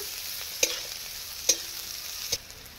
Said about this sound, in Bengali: পেঁয়াজগুলো লাল লাল ভেজে নেব।